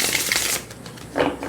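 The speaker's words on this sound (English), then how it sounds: "I riffle shuffle each of those sections" Riffle shuffling of a True Crime oracle card deck, done in sections: a dense papery flutter up front, a quieter pause, then a second brief burst of cards snapping together, close and alone.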